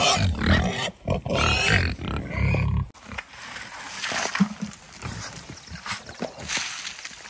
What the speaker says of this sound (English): pigs have been fed, they're occupied